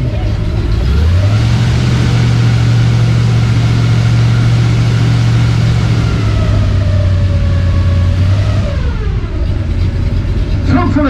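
An airboat's 8.2-liter Chevy V8 engine roars loudly and continuously at close range, its pitch climbing as it revs, holding, then dropping back before rising again.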